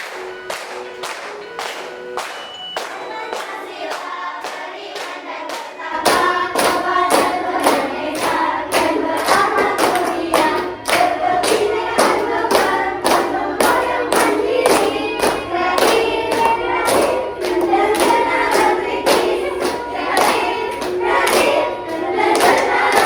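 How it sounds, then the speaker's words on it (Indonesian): A school class claps in rhythm while singing together, with steady hand claps and group voices that grow louder and fuller after the first few seconds. "Boleh sambil berdiri, nanti boleh sambil tepuk-tepuk."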